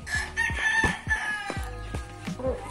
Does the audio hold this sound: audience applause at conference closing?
no